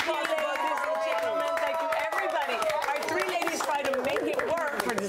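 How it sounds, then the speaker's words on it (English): Studio audience at a TODAY show makeover reveal claps and cheers steadily and loudly throughout, a dense continuous wash of applause with music or voices mixed underneath. "Let's give a big round of applause."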